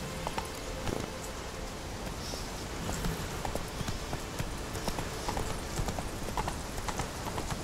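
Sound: horse Roach clip-clopping hooves in video game The Witcher 3

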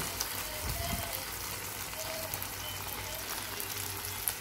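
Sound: ground tomato and garlic paste sizzling as added to pan

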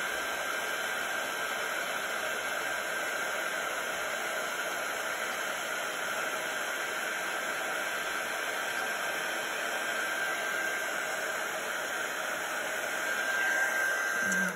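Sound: Wow embossing heat gun melting embossing powder

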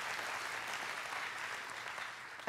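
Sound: audience applause

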